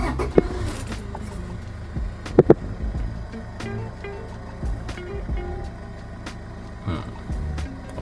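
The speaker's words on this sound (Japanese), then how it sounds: "じゃあもう一回エンジンかけときます" A car engine idles with a low steady rumble, close by, broken by a few sharp clicks and knocks.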